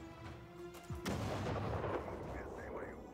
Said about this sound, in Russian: Взрыв не помог, босс